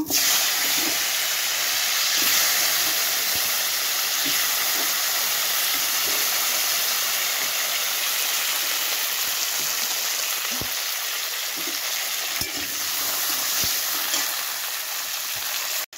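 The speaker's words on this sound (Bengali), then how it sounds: "ওর মধ্যে আমি আলুগুলো ভেজে নেব।" Potatoes frying in hot oil after cauliflower in a Bengali vegetarian curry preparation: a loud, continuous hissing sizzle close by, with occasional light utensil clicks and no talking.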